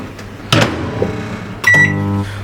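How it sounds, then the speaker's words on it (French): A microwave oven in a home kitchen, used to melt butter for muffins, with sharp clicks and door sounds followed by a steady electronic beep tone, loud and close. "On le met dans le micro-ondes."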